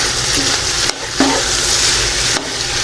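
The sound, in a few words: stirring tomato sauce into pork binagoongan in a pan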